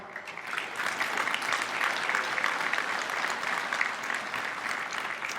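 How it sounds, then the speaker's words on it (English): An audience at the 2019 Rhode Island Hockey Hall of Fame induction ceremony claps in a steady, dense round of applause that carries evenly throughout, with no talk over it. "A round of applause for them as well, please."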